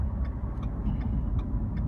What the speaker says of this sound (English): There's a little bit of a tap, but I don't really think it's anything to worry about.